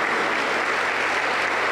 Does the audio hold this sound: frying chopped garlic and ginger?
no